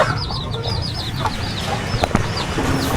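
A hen clucks repeatedly in a rhythmic, agitated run of calls while laying eggs, close and loud in a farmyard, with faint background bird sounds and no talk.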